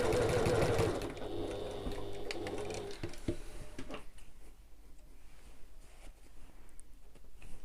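A sewing machine stitches a lining seam for an evening bag, a fast close mechanical whir for about a second, then brief clicks and handling noises as it stops.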